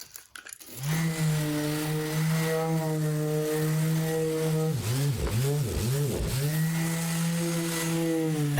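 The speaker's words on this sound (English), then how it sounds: "now I'm going to scrape the glue off of it and sand it with 80 grit just to get it nice and flat" A power sander works a glued-up desktop panel with 80-grit paper after glue scraping, giving a steady close motor drone whose pitch dips and wavers several times as pressure shifts, continuous throughout.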